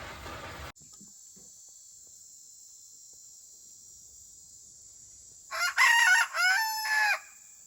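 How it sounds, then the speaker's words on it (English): A teal and orange backyard rooster gives one loud, close crow in several drawn-out segments lasting over a second, after a long stretch of quiet with a thin, steady insect-like hum. "Can I show him your crow?"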